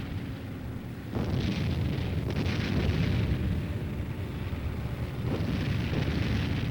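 Overhead artillery fire with proximity bursts booms during a wartime tank and infantry advance, making a continuous heavy rumble with louder blasts rolling in every few seconds.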